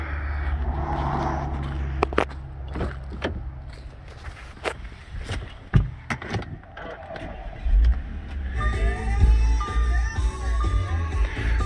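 A 2014 Audi Q5 S line starting up after door and cabin handling sounds, the engine catching near the end and settling into a steady idle.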